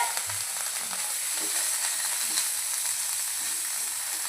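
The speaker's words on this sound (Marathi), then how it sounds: "आणि आपण घेतलेलं पनीर, ऑनियन आणि कॅप्सिकम यांना छानपैकी असं यामध्ये थोडंसं फ्राय करून घेऊया." Paneer, onion and capsicum fry in butter in a pan, giving a steady, close, hissing sizzle with faint stirring scrapes underneath.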